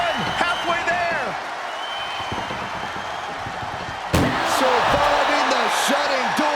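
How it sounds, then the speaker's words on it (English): In the WWE 2K24 Ambulance Match, an ambulance door slams shut with one loud, abrupt impact midway, surrounded by steady arena crowd noise and bouncing in-game sound effects. "Desperately trying to close the first of two doors."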